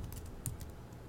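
Keys clatter on a computer keyboard in a quick, close run of light taps and clicks, with no voice over them.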